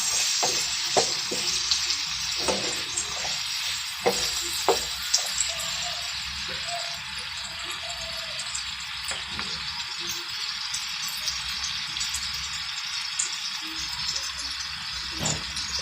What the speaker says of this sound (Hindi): 1 से 2 मिनट तक हम इसको भून लेंगे।